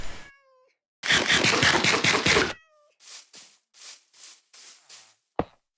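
Minecraft cats meow in short tonal calls, with a burst of noisy in-game sound and a string of soft, evenly spaced thuds before a final sharp click.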